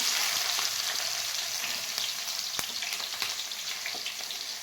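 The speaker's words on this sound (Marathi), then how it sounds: "तेलामध्ये जिरं टाकूया, कांदा" Cumin seeds and chopped onion fry in hot oil with a loud, dense sizzle heard up close. It is dotted with scattered pops and clicks and slowly eases off in intensity.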